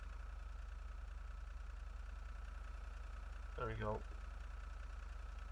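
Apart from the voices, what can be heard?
diesel engine idling, from a video game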